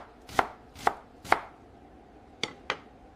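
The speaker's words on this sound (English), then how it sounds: "I cut the onions." A knife chops onions on a board in five sharp, separate strikes. Three come evenly spaced, then a pause, then two more close together. The strikes are close and clear in a quiet room with no talking.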